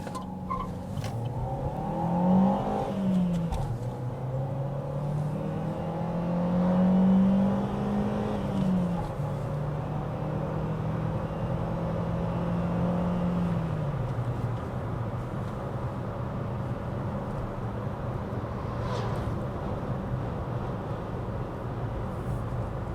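A Chevrolet Onix LTZ 1.4 running on ethanol accelerates along a road, its engine note rising through gears in repeated climbs and drops, steady and fairly close, with road and wind noise underneath.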